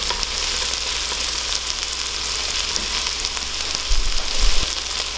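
Garlic, about half an elephant-garlic clove, sizzles steadily in a hot pan for cream of chicken soup, a continuous close frying hiss with a brief louder crackle near the end; no one talks.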